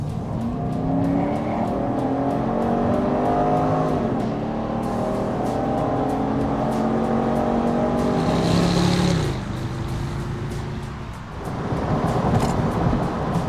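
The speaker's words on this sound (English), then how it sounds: "this engine sounds terrific" A 2009 Pontiac G8 GXP's engine drones steadily while the car is driven on the road, a loud continuous rumble with rising and falling revs that drops off briefly near the end before picking back up.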